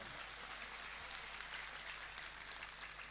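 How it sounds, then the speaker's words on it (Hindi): Applause from a crowd at a public gathering in Kolkata, cheering for top-scoring girl students; a steady, dense wash of clapping fills the whole stretch without pause. "इन लड़कियों के लिए एक जोरदार तालियां हो जाए"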